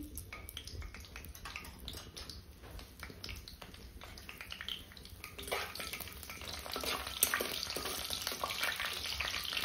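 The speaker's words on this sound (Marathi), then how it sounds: "तेलामध्ये आपण खडे मसाले टाकून घेऊ. मोहरी," Whole spices and mustard seeds crackle and sizzle in plenty of hot oil for misal on a wood-fired stove, a close patchy frying hiss with small pops that grows louder toward the end, with no voices.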